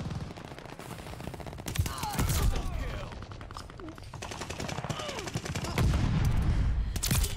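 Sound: DLC weapon gunfire in Call of Duty Vanguard video game

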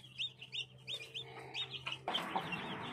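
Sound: black chicken chicks clucking in a pen

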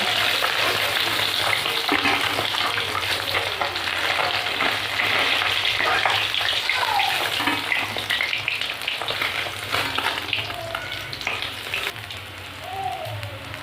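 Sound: fish frying in oil

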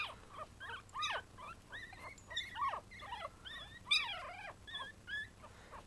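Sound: one-week-old puppies whimpering

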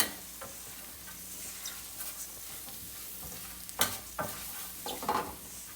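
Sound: stirring and mixing spices for fenugreek kalonji pickle

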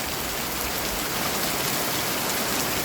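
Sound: heavy rain

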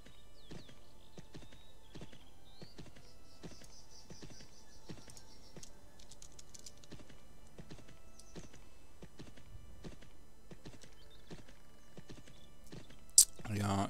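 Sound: warhorse hooves in video game Champions of Regnum

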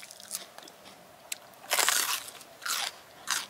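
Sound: biting and chewing fresh produce

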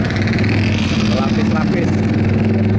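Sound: traffic jam on Jambi–Tempino national road

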